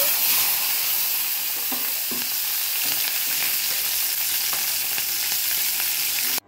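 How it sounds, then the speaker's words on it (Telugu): About ten green chillies fry in two tablespoons of hot oil in a pan, giving a loud, continuous close sizzle with scattered crackles and pops, ending abruptly. "ఆయిల్ హీట్ ఎక్కాక ఒక 10 పచ్చిమిరపకాయల వరకు వేసుకోవాలి"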